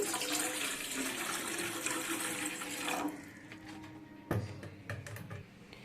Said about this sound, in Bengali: এখন গ্যাসে এরকম একটা আমি জায়গা বসিয়ে দিয়েছি এতে দিয়ে দেব জল